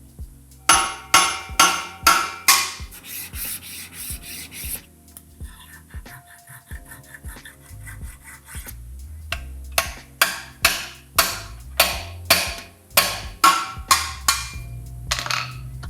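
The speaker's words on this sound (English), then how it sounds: "I think I need to file a little bit of material because it's gonna be fitting too tight." A wooden sword handle is worked onto a steel tang with a file and a hammer: runs of sharp, regular rasping and knocking strokes, close and loud, broken by a quieter stretch of softer scraping and handling.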